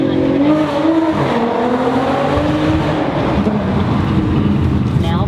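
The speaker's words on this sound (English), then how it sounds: "we squealed the tires a little bit" An Audi SQ5 with quattro all-wheel drive brakes hard, its tires squealing briefly amid loud engine and road roar recorded from inside, with a voice talking over it.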